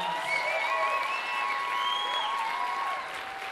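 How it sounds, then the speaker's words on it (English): A crowd at a high school team's victory rally applauds a player, with sustained clapping and cheering mixed with thin whistles that rise and fall over the broad, steady noise. "give him a good round of applause"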